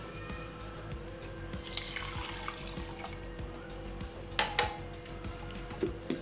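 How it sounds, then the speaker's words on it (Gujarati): A glass of water poured into a mixer jar while making mint lemon sherbet, a faint, close liquid trickle with a few light clinks of glass or steel, and no talk. "પાછો એક ગ્લાસ ઉમેરીશું પાણીનો"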